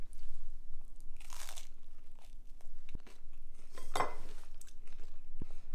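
Someone bites into a chocolate squash pizza at an Italian chocolate meal, giving a few soft crunches and chewing sounds near the mic with faint cutlery clinks against a quiet room.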